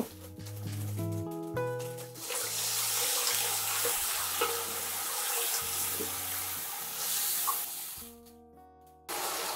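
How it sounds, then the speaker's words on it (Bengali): Water is poured into dry spices in a hot pan, a loud rushing hiss and spatter that swells for several seconds after background music, then cuts off, leaving music again. "শুকনো মশলাগুলো যাতে পুড়ে না যায় একটু পানি দিয়ে দিব।"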